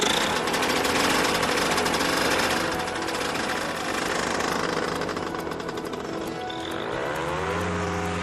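Paramotor engine with a 40 kg fan unit rated at 28 horsepower, running loud and steady with a buzzing, rattling drone throughout, its pitch shifting near the end.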